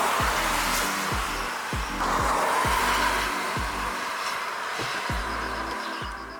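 Nissan Juke small city car driven in Sport Mode, the engine holding higher revs through a series of quick gear changes, each upshift a short falling whoosh repeating about every half second over steady road and wind noise, with no talk.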